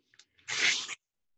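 Paper ripped into strips for papier-mâché: one short, crisp tearing rip lasting about half a second, close and fairly loud, with a couple of small rustles just before it.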